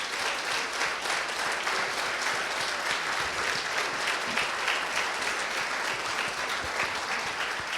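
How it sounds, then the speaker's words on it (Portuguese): Steady congregational applause at a Sunday evening church service, a dense, even wash of many hands clapping continuously at moderate distance, with no clear voices on top. "Uma salva de palmas para o Senhor."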